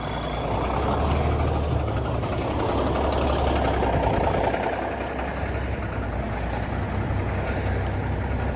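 A heavy truck engine rumbles steadily and loudly throughout, a low continuous drone with a slight swell in the middle as it goes by.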